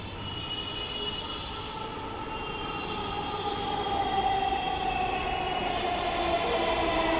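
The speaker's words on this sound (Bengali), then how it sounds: "আমরা চলে এসেছে আমাদের ট্রেন চলে এসেছে, আমরা লাইট দেখতে পাচ্ছি ট্রেনের" A Dhaka metro rail train pulls into a station at night, its steady rumble and rolling hum swelling gradually as it nears and fills the platform, with no voices.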